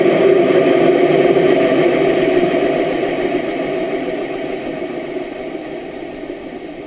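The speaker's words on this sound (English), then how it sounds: "the sound of the engine starts to diminish as if maybe A's run out of fuel" Go Fast team rocket engine during launch, a steady broadband roar that holds strong and then slowly fades over several seconds, with no voices over it.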